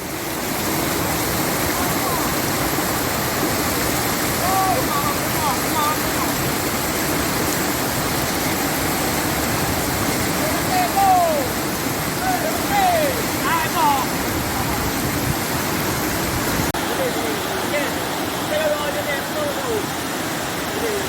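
The Tujuh Bidadari waterfall roars steadily and evenly, a broad rushing wash of water, with faint bird chirps and distant voices underneath.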